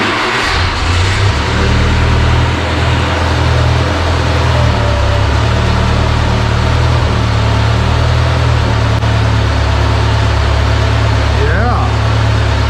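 A JLG 40G boom lift's engine runs loud and close, a steady low rumbling idle that holds throughout with a slight rise near the end.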